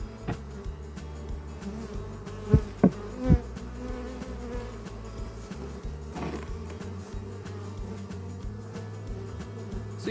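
Honey bees swarm around an opened hive during an inspection, giving a steady, dense buzzing close by with a few sharper, louder passes as individual bees fly near. No one speaks.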